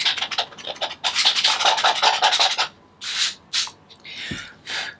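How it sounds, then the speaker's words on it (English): A small palette knife scrapes over painted paper in an art journal, making a close, gritty rasp in a long run of strokes, followed by a few shorter separate scrapes. "I'm going to take a very small palette knife and kind of just give that a scrape"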